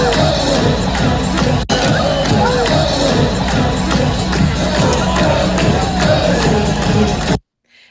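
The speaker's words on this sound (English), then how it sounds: "the crowd got pretty loud. It was pretty raucous" Loud stadium crowd at a Union soccer match against Atlanta, a dense roar of cheering and whoops sustained for about seven seconds before cutting off abruptly.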